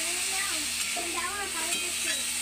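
Curry sizzles in a pan right after the spice-rinse water from a bowl is poured in, a steady close frying hiss with faint stirring scrapes running throughout.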